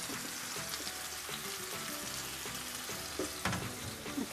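Masala frying in a pan while being stirred, a steady close sizzle with scraping spoon strokes and occasional louder clinks against the pan.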